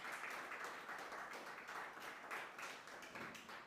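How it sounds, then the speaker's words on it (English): Audience at the London African Nations Cup UK 2023 draw applauds founder Mr. Dennis with a steady, dense wash of clapping that holds at an even level from start to finish, with no talk over it. "let's give him another hand of applause"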